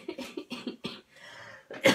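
A woman coughs in a quick run of several short, close bursts, then clears her throat with a longer rasp before one more loud cough, with no talking over it.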